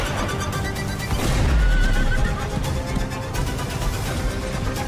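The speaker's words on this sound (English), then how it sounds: "Horses?" A horse neighs in a third-person cover-shooter video game, a loud whinny rising out of a dense, continuous bed of game ambience and music, with a low thump midway and no talk.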